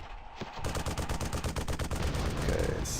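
Rapid automatic gunfire in the video game Armed and Dangerous, a loud dense burst of evenly spaced shots running almost continuously for a few seconds.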